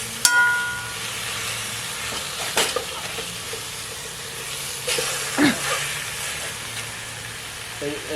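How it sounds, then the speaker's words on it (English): Lamb shanks searing in a pot with onions, garlic and chilli over a camp stove, a steady hiss and sizzle running throughout with a few louder bursts of spitting and stirring. "Let's sear the meat up a little bit."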